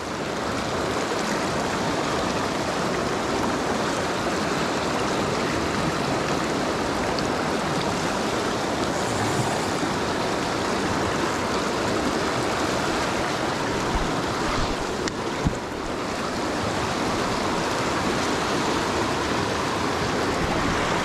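A backcountry stream in Idaho rushes through whitewater, producing steady, loud, broadband noise that continues without break for the whole stretch and nearly fills the sound.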